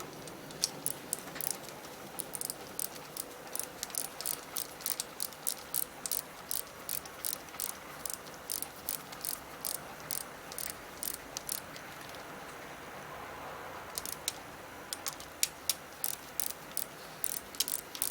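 Torque wrench clicking as head bolts are tightened down on the top end of a Suzuki GS550 engine, a long run of sharp, rapid ratcheting clicks in bursts, close up and alone with no talking.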